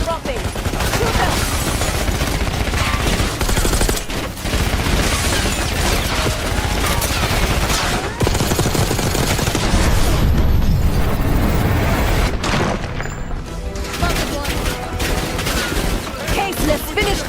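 Continuous heavy gunfire and explosions in the video game Call of Duty: Black Ops 6, a loud, dense wall of shots and booms lasting throughout, with voices shouting under the battle.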